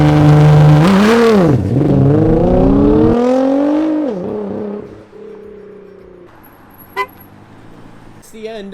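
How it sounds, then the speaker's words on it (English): Nissan GTR launching in snow from about 4,000 RPM: loud engine roar climbing in pitch with quick gear changes, then fading into a quieter lower drone, heard from inside the car. "I've got to experience what the GTR launch is like."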